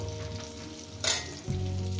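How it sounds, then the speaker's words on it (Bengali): Eggplant pieces fry in oil with a close, continuous sizzle, a sudden loud hiss flaring midway, then a lower bubbling as frying settles; no voices. "বেগুনগুলো আগে ভেজে নেব"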